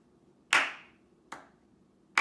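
Three sharp hand claps ring out in a quiet room, spaced unevenly about a second apart, each with a short decaying tail; nothing else is heard.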